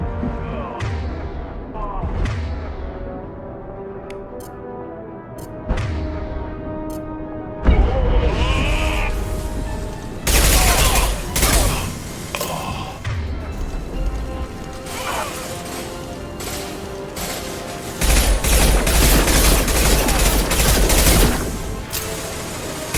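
Gunfire in the video game Mass Effect 2, sustained bursts of automatic fire and impacts in a busy battle mix with music, loud and repeating in several long volleys, with shouted combat voice lines over it.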